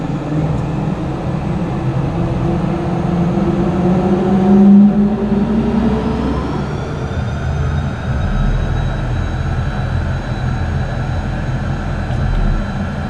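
An aircraft turbine engine winds up as the big N1 fan turns and ignition lights off, a steady broad roar with rising whine tones that build and shift after a brief swell, loud and continuous with no talk.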